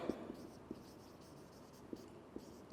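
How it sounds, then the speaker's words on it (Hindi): Marker or chalk writing on a board during a chemistry lecture, a faint series of short taps and scratchy strokes spaced irregularly over a quiet room background. "मैं यहां पे लिख देता हूं कि इफ रिक्वायर्ड"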